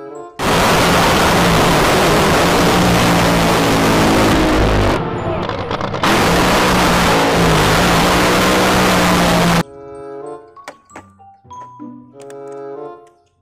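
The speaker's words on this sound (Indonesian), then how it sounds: "Wow, kalau yang ini adalah si" Loud, steady engine roar of a speedboat running at high revs for about nine seconds with a brief dip midway, then cutting off to quieter scattered sounds.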